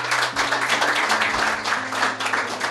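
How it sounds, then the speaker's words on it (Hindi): An audience at a poetry event claps loudly and continuously, a dense, close wash of applause with a low steady hum running beneath it. "तो एक बार खुद के लिए ज़ोरदार तालियां बजा दो"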